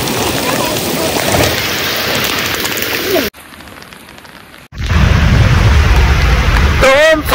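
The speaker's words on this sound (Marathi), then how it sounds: "तर बघू शकता मग जबरदस्त पाऊस चालू आहे" Heavy monsoon rain pours at Vasundhara waterfall near Bhandardara, a loud dense hiss of drops on surfaces that cuts out briefly midway, then returns even heavier, ending with a wavering whistle-like tone.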